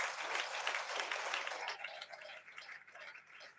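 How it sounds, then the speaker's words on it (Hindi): Congregation at a Sunday church meeting clapping together, a dense broadband patter that is loud at first and then thins and fades over a few seconds. "एक बार ताली बजाओ परमेश्वर की।"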